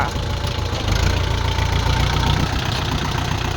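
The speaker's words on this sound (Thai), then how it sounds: "พวก47แรงนี้เป็นเครื่องยนต์4สูบค่ะ" A 47-horsepower four-cylinder Kubota L4708SP tractor engine idles nearby with a steady, slightly knocking rumble that stays constant throughout.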